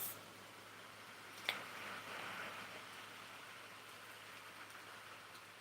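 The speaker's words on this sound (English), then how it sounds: "Got a little storm coming through." Light rain from a small passing storm falls steadily as heard from a porch, a soft even patter with one brief louder knock near the start and no talk.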